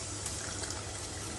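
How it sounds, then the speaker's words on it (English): Pasta water poured from a pan into a sauce during home dinner cooking, a steady close splashing gush of liquid running without pause, no talking. "I'm going to add some pasta water,"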